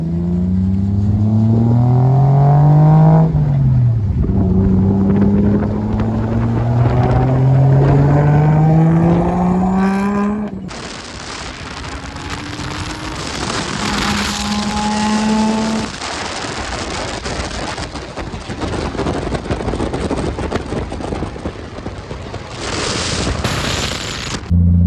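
A Nissan S13 with a 1JZ engine swap and an eBay exhaust accelerates hard on the road, its loud exhaust climbing through several gears, then crackling and popping on the overrun with rapid, gunfire-like bursts.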